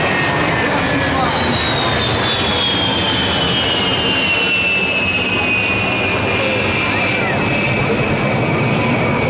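An Israeli Air Force Boeing F-15I Ra'am fighter jet roars loudly and continuously at an air show, a sustained jet-engine rumble with a slowly falling whine as it passes.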